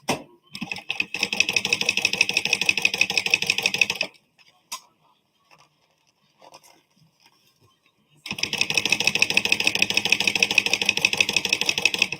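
Sewing machine top stitching with contrast thread around a zip wallet, a steady rapid mechanical whir running in two loud bursts separated by a pause of near silence with faint handling noises.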